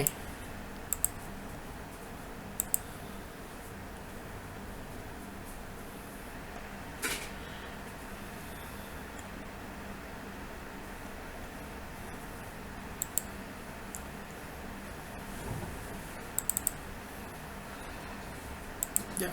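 Light typing on a computer keyboard, a steady soft patter of keystrokes running throughout with a few sharper clicks standing out, over low background hum.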